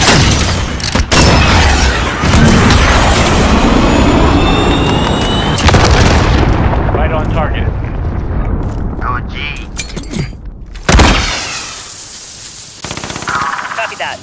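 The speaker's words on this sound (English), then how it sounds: "Missile, go for launch." A video game missile launch followed by heavy explosions and rapid gunfire-like bursts, loud and dense, with a roaring jet-like rumble and sharp blasts near the end, voices talking over parts of it.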